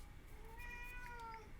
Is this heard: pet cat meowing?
yes